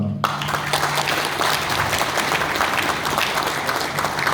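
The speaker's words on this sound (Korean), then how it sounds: "우리 회장님 잘 하시게끔 협력 주시고 박수 주셨으면 고맙겠습니다." Loud, close applause from attendees at a construction association ceremony celebrating a newly elected chapter president, dense clapping that starts abruptly and stays steady throughout.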